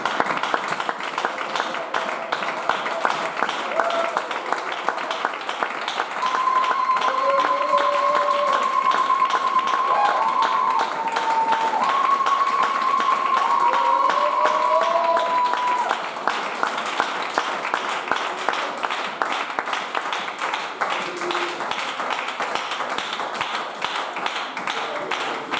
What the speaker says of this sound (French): Est-ce qu'on peut acclamer le Seigneur très fort?